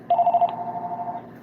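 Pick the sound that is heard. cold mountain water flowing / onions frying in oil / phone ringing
phone ringing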